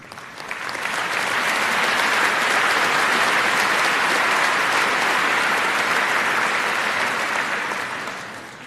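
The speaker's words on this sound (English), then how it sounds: "to Annabelle, I would ask you to join me in honoring her with a round of applause." An audience at a 2016 high school commencement breaks into sustained applause, swelling quickly to a dense, loud clapping that holds steady for several seconds before tapering off.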